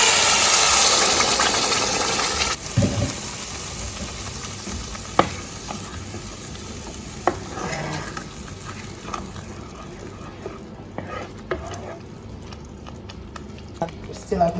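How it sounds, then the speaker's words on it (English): Pasta sauce poured into a hot pot while making homemade meatballs, a loud hiss that falls away after a couple of seconds into softer sizzling and stirring clatter, with a voice talking over it. "I'm gonna put the sauce, the pasta sauce."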